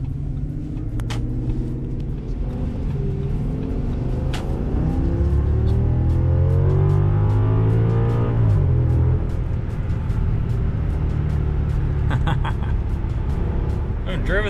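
An Audi S8 drives along with a steady low engine and road rumble, the engine note rising and then easing off mid-way, heard from inside the cabin.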